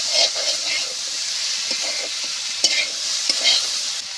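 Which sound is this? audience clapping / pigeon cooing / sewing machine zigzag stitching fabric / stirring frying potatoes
stirring frying potatoes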